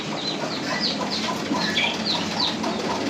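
A brooding hen sitting on eggs clucks repeatedly in short, regular bursts nearby, over a soft background hum with no talking.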